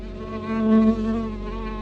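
A fly buzzes steadily and close in a horror radio drama, its droning hum swelling louder in the middle before settling back, with no voices over it.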